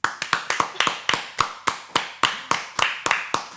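Hand clapping in a steady series of about fourteen sharp, close claps at an even rhythm, loud and alone with no voices.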